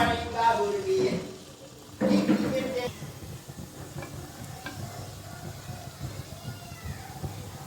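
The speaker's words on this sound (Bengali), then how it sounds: "এইভাবে সবগুলো আমি লাল লাল করে ভেজে নেব উলট পালট করে" Palm fruit buns frying in hot oil, a soft continuous bubbling sizzle with a couple of louder bursts of spatter and clatter early on as the buns are turned.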